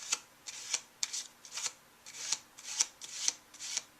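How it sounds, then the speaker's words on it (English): Playing cards are shuffled overhand in a quick, regular rhythm of soft slapping riffles, close by, with no voices. "the way I do that is just a running overhand shuffle"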